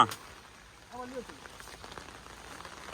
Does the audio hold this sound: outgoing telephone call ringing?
no